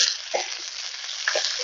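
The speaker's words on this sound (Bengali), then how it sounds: "এবার অল্প একটু লবণ দিয়ে 2 মিনিট মতো হাই ফ্লেমে ভেজে নেব" Cabbage, green chili and beans stir-fried on a high flame, a short burst of steady sizzling with a couple of quick utensil scrapes.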